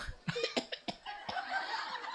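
A short burst of quiet, choppy coughs or chuckle-like huffs, several quick bursts followed by a breathy trailing sound.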